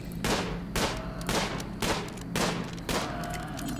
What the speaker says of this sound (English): So we're just going to fire at this Muffalo here